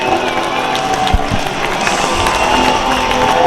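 Crowd at a college football game between Wheaton College and North Central College, a modest crowd giving a loose roar of cheering and some clapping, with a commentator's voice over it.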